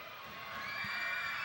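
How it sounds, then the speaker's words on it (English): A gym crowd at a girls' high school basketball game cheers and shouts, a distant roar that swells over a second and a half with no clear talk. "I can hear the crowd screaming from here"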